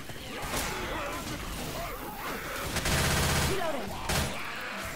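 Gunfire rattles in the game Left 4 Dead 2, with a burst of rapid automatic shots plus scattered single shots and impacts, set against game noise and excited voices.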